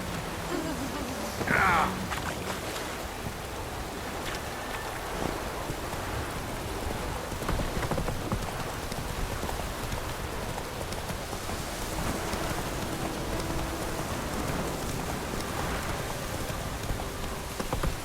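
Steady rain pours down in The Witcher 3 video game, a dense continuous hiss on surfaces with scattered droplet patter, a faint low rumble beneath and no talking.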